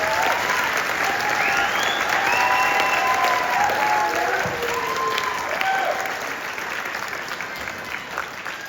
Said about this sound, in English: One more round of applause for the kids